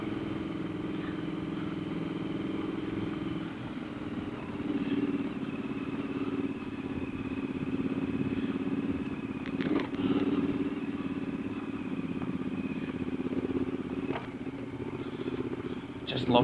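A Triumph Scrambler 1200 motorcycle ridden off road on moorland, its engine a steady mid-level rumble with occasional clattering knocks, and a person talking at times over it.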